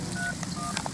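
Touch-tone telephone dialing during a phone call in a Bhojpuri comedy sketch: a few short, clean dual-tone beeps in quick succession over a steady low background hum.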